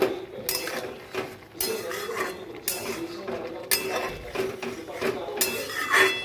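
Metal pot and utensil clinking while ghee is sprinkled over Bengali sukto curry and the pot is taken off the heat, several sharp close clinks and scrapes in an irregular rhythm.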